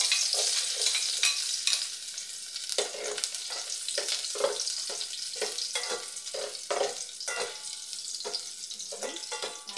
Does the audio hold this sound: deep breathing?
no